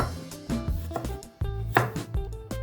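A knife chops through firm potatoes on a cutting board, a series of close, irregular cuts and knocks with no talking.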